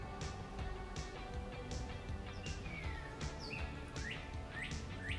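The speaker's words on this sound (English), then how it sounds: "Listen to the birds chirping." Small birds chirp and tweet in quick, rising calls over a steady background hum, fairly faint and scattered across a few seconds.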